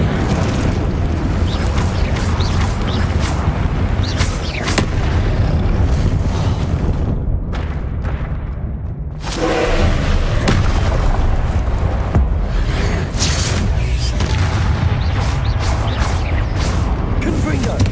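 Spell effects from the Hogwarts Legacy video game, including the Incendio fire spell, form a dense, loud, continuous wash of booming, crackling blasts with repeated sharp impacts. A brief quieter gap comes near the middle, and a voice speaks over parts of it.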